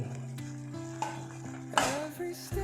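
Chana dal and cumin seeds dropped into a hot pan, with a soft sizzle and a few spoon and pan clinks, then a louder burst of sizzling near the end.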